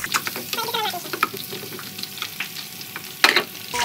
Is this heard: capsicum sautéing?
yes